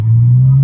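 Porsche GT2 engine held at a steady rev, a strong low droning note with a faint hint of voice beneath it.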